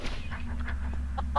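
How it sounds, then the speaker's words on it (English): A chicken clucking in Minecraft, a few short, quick clucks over a steady low hum, moderately close and brief. "I've been throwing chickens around his house"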